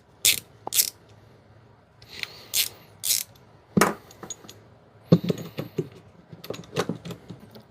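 Screws being loosened on a rifle scope mount for a Winchester Wildcat, sharp metallic ratcheting clicks in short separate bursts with quiet pauses between, close and alone.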